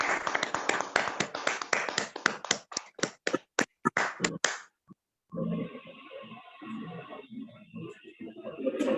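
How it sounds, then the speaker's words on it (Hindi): Scattered hand claps at an online achievers' recognition event, brisk at first and then thinning to slow, isolated slaps before stopping. After a short silence a muffled, steady background sound follows. "रविंद्र भौमिक दोनों अगरतला त्रिपुरा से, इन लोग के लिए भी एक बार जोरदार तालियां हो जाए सिल्वर लेवल कंप्लीट करने।"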